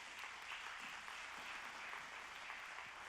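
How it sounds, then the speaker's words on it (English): A church or event audience gives a round of applause as guests come up on stage, a continuous, even hiss of many hands clapping, somewhat distant and soft, with no voices over it. "give them a big round of applause"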